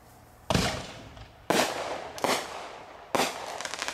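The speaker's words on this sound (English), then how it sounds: "Now there's Sentry Warrior, which is a triple breaking shell." Sentry Warrior triple-break artillery shell fireworks: four sharp, loud bangs about a second apart, each one trailing into crackle and a fading rumble, with no voices.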